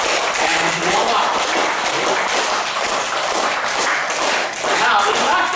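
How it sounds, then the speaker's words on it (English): A group clapping together palm to palm as a laughter yoga warm-up, producing a dense, steady wash of many claps at moderate loudness that continues without pause. "So let's all clap and warm up."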